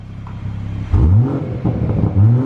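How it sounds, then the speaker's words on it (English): A BMW 340i Touring exhaust revs up sharply a couple of times with traction control off, deep throaty blips rising in pitch over a steady idle rumble, close by. "traction control turned off, which again changes the sound of the exhaust"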